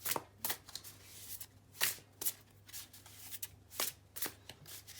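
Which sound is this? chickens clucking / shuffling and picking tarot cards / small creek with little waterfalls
shuffling and picking tarot cards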